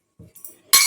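Child banging kitchen utensils in a home kitchen, a few soft metallic taps and knocks close by, then one loud bright clang ringing out at the end.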